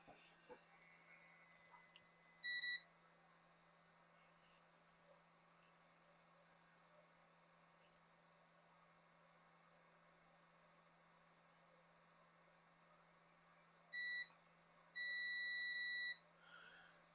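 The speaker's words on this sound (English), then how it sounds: "So we do the quick and dirty little beep test." A continuity tester on a circuit board gives short electronic beeps as its probe touches a pin: one brief tone early, another around the middle, then a longer steady beep near the end, all over a faint background hum.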